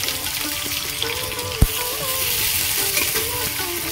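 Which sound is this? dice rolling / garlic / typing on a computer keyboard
garlic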